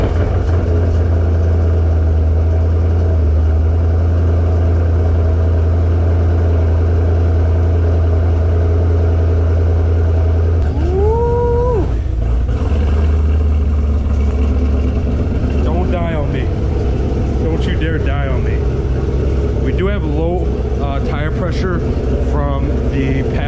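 Cammed Camaro Z/28 with an LSX engine cranking to life and settling into a loud, lumpy, choppy idle, with someone talking over the rumble after it fires.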